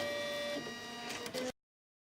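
A home embroidery machine stitches a cutwork eyelet, a steady mechanical whir with shifting motor tones running for about a second and a half before stopping abruptly into silence.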